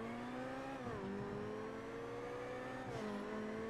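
A car in the GTA video game drives along a highway with a steady, fairly quiet engine hum. The pitch dips twice as it shifts gears, and there is no talk.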